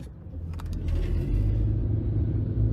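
Ford Maverick Hybrid with its 2.5-litre four-cylinder accelerating hard in sport mode, a steady close engine rumble that swells and holds as the revs climb, with no talking.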